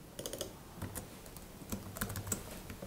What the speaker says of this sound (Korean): 이렇게 off라고 입력을 할게요.